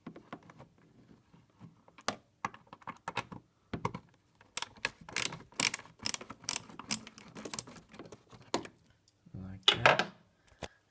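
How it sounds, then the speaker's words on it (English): A hose clamp is loosened while fitting a Volvo outside temperature gauge, heard as faint, close, irregular mechanical clicks and ticks coming in clusters, with a quiet voice in between. "And you just loosen this clamp over here."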